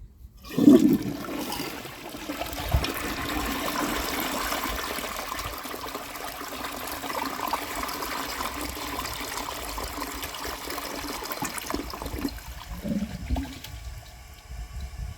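A 1951 Crane Neuday toilet with a replacement flapper flushes in one long, steady rush of water that runs for over ten seconds before settling into a softer trickle and refill.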